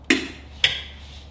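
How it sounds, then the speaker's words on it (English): A golf cart solenoid clicks twice, two sharp, close, fairly loud clicks about half a second apart with nothing else around them. "Solenoid works. Hear that click?"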